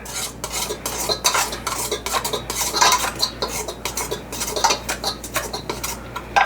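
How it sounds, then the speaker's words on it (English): A whisk stirs powder in a bowl for keto carnivore English muffin batter, making rapid, close scraping and clinking strokes in an uneven rhythm with no talk. "I'm going to stir this with the whisk just to get the powder going here a minute."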